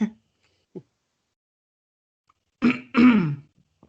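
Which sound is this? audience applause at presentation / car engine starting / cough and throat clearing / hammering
cough and throat clearing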